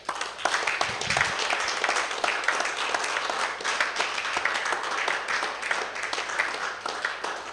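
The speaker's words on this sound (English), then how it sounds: "facilitator for today, Dr. Benjamin Kagoro, a big resounding applause." An audience on its feet applauds a facilitator at a health event, a dense, sustained roar of many hands clapping at steady loudness for several seconds.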